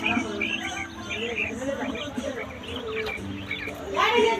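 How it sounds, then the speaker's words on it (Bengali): Quail chirp and twitter in short, repeated high calls, fairly close, with a low background hum and some murmuring underneath. "এই কোয়েল পাখিগুলো।"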